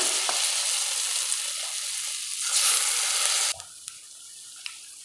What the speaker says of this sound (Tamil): இப்போ நாம் ஒன்று ஒன்றா போட்டு வறுக்க ஆரம்பிச்சிடலாம்